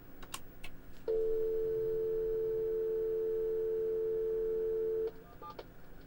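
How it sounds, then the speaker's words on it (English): An Alcatel VT258 Viewdata terminal dials out to a dial-up service, sending a single steady pure tone for about four seconds with a few faint key clicks before and after, quiet and alone. "So let's try and actually make a connection to it. So on there, I just need to type in the actual dial number we want,"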